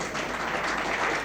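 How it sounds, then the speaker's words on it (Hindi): A hall audience at a ceremony honouring 108 senior citizens bursts into loud, dense clapping that holds steady and close for the whole moment, with no voice over it. "एक बार उनके लिए जोरदार तालियां बजा दीजिए।"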